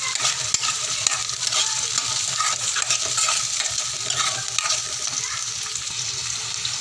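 Peas go into frying onions in a pan, with a close steady sizzle and frequent scraping, clinking stirs that continue throughout.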